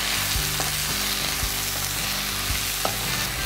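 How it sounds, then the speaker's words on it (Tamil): Drumstick leaves fry in hot oil with a steady sizzle while a spatula stirs them, giving a few sharp scrapes against the pan; close and continuous, no voices. "இது அப்படியே எண்ணெயிலே ஒரு பரட்டு பரட்டி மூடி வச்சிடலாம்."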